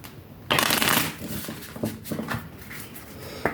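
A classic Belline oracle deck is shuffled by hand at close range, a burst of riffling card noise followed by softer intermittent shuffles and slides, with no speech.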